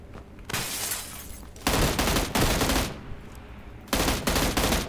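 Loud bursts of automatic gunfire from the PUBG battle game, three sustained volleys separated by brief pauses, close and alone with no talk.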